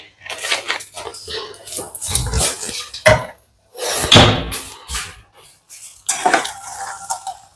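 Avial, a Kerala mixed-vegetable dish dressed with raw coconut oil, being stirred in a cooking pot, with repeated close scraping and clattering knocks of a spoon against the metal pot in irregular bursts.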